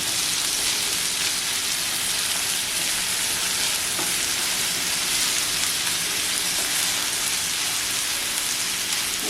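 Chilies frying in hot oil for prawn thecha, a dense, loud, continuous sizzle with steady crackling throughout and no pauses.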